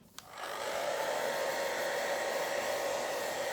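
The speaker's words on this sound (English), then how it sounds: "I'm just going to grab the hairdryer again and give that a bit of a burst" A hair dryer blows a warm burst over a gel plate print in a home art studio. A click starts it, then a steady, loud whooshing roar holds without a break.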